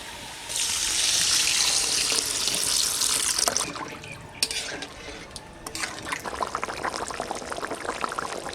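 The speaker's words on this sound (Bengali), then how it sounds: "এখন জল দিয়ে দেবো" Water pours into a pan of Bengali fish curry cooking in a village kitchen: a close, steady gush for about three seconds, then softer bubbling and stirring clatter, with no talk.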